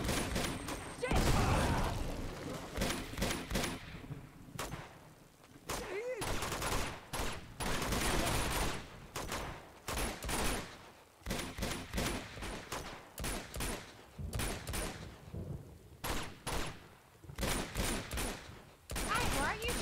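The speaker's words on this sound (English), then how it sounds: "Guys, why are you shooting right now?" Rapid bursts of gunfire in the game Uncharted 2, sharp repeated volleys broken by short gaps, with a character's shouted voice briefly over the shooting.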